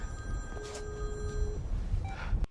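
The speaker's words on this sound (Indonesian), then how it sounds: "handphone Tyler berdering di dalam jaket Joshua." A mobile phone rings from inside a jacket during a tense film scene, a muffled electronic ring tone lasting a couple of seconds over a low room rumble, with a brief sharp knock at the end.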